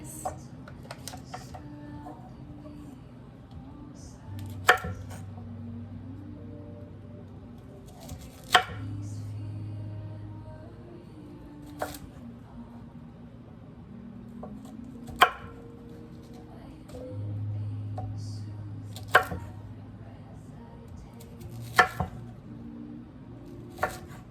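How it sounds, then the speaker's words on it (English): A knife chops crisply through Brussels sprouts on a cutting board, sharp isolated cuts every few seconds over a low hum and faint background voice. "a little bit more ASMR with these Brussels sprouts, because just listen to the sound of chopping these"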